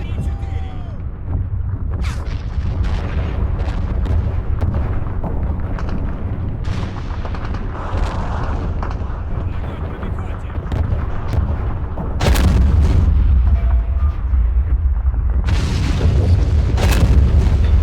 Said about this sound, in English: something's not quite right with that artillery, I must say. It's firing into the sky